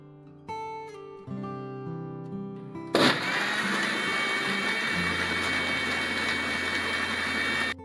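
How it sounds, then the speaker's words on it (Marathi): A kitchen mixer blends lassi with sugar, cardamom powder and ice cubes, starting abruptly after some clattering and then running as a loud, steady high-speed whir with a rattling undertone, close and alone without talk. "हे आपण आता मिक्सरला 2 ते 3 मिनिटे फिरवून"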